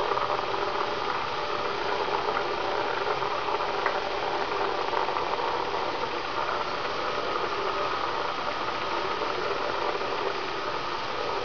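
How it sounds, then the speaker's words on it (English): Space Shuttle Atlantis's main engines roar during its final liftoff, a dense, steady, rumbling broadband wall of noise with faint rattling that holds constant throughout, heard from a distance. "Engines now revving up, standing by for the throttle up call."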